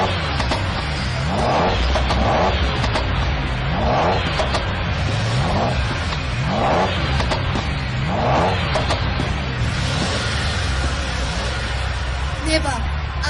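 Race cars rev and accelerate as a race gets underway, a loud continuous engine roar with rising sweeps, under talk and crowd babble throughout.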